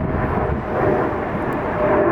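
A Spirit airliner taxiing at Atlanta airport gives off a steady, distant jet engine roar, a smooth broadband hum that swells slightly toward the end, with no talking.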